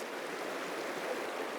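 A river in the Rocky Mountains in late winter, its water rushing and burbling in a steady, even wash of moderate loudness with no break.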